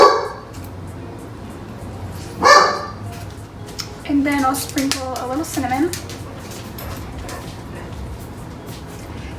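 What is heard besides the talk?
dog barking in the kitchen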